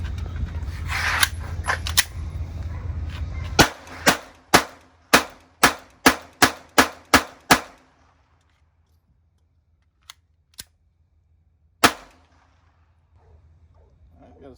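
A Glock G44 .22LR pistol firing mixed ammunition: a rapid string of about nine sharp, loud shots in even rhythm after a noisy stretch, then near-silence broken by a few isolated metallic clicks and one more crack.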